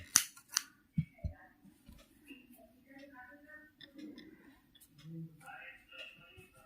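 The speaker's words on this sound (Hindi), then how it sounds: "एक चेन बनाकर अब हम इसे काट लेंगे इस तरह से" Scissors snip a crocheted yarn chain with a couple of quick crisp cuts near the start, followed by soft handling noises while someone talks.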